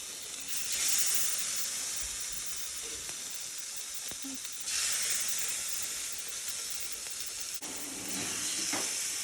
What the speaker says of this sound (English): we put 2 tablespoons of olive oil over the shrimp, so you really don't need too much of this. And I just kind of lay it on in rows.